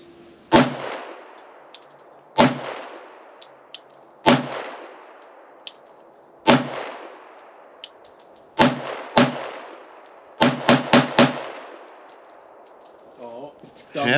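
Shots from a Shadow Systems MR920 Elite pistol fed from a Magpul magazine crack out loud and close, spaced single reports followed by a fast burst of several, each ringing briefly into an outdoor range.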